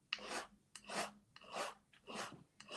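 A hand file rasping across a metal wishbone ring held at an angle, five or so rhythmic strokes at a steady pace, close and fairly quiet with brief gaps between passes.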